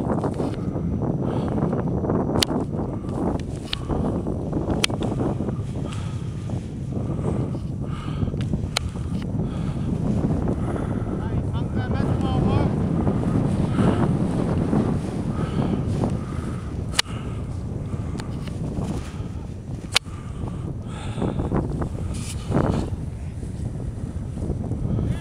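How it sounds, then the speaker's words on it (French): Gusty wind over a frozen lake during snowkiting buffets the microphone in a steady, rushing roar, with occasional sharp flaps and snaps over it. "Le vent qui s'en vient."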